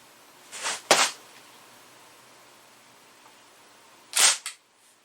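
Daisy Model 74 CO2-powered BB gun fired across a chronograph, giving sharp cracking shots near 0.7 and 1 second and another around 4.2 seconds, each short and loud against quiet background hiss.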